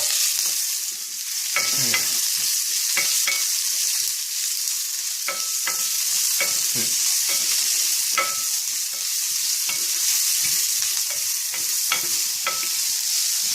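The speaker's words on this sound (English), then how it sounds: "I'm going to put in my onion now, since a lot of that is popped." Onion sizzles and fries in a pan for chicken curry, a steady bright crackle with scattered pops and stirring scrapes close by; one brief word is spoken.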